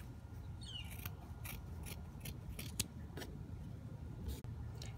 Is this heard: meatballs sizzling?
no